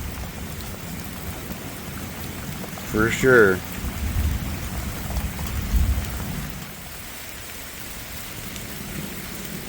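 Steady rain patters and hisses on surfaces throughout, with a brief spoken remark partway through and a low rumble under the downpour.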